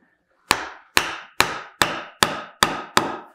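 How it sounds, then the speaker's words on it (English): Seven sharp, evenly spaced whacks ring out as a board hammers tungsten welding rods down into a tube, each strike loud and close with a quick decay and no talking. "I put it down and I hammer it with a board like this"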